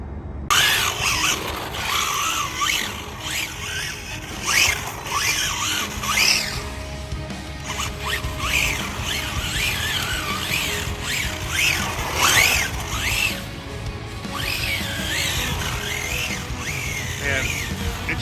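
Kyosho 1970 Dodge Charger brushless RC car ripping fast around a debris-strewn parking lot, its whining motor and tire squeals rising and falling continuously, with a person talking over it.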